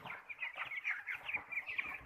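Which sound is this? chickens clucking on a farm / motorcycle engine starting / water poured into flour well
chickens clucking on a farm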